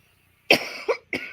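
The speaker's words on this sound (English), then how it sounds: "Tickling cough." Two or three quick, sharp coughs in succession, close and fairly loud, after a moment of near silence.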